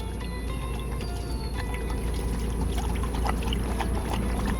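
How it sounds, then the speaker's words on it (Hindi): Water poured into a bowl for dogs to drink outdoors during a trip to Mukteshwar, a steady close splashing stream that runs without a break over a low, constant background rumble. "पानी डालने दो"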